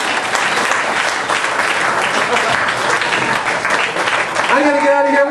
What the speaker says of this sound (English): We're going to switch to a big round of applause for all my volunteers